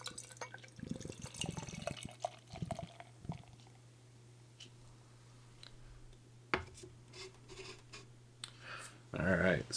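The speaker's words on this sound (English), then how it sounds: "Let's go ahead and get it poured." Urban South HTX Chromatic triple IPA is poured into a glass, giving a soft liquid splash and trickle with a few light clinks, ending in a louder burst of fizzing and pouring.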